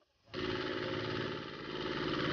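A tractor engine starts up abruptly after a short quiet moment, then runs in a steady, loud, throbbing drone with a low, rumbling pulse that dips slightly before rising again.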